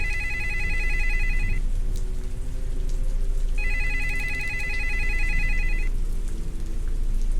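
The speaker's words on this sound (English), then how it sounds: "Oh, phone call." A phone rings inside the Roblox game Identity Fraud 2 with two long electronic trilling bursts separated by a pause, set against a steady bed of rain-like noise and a low hum, and no voices.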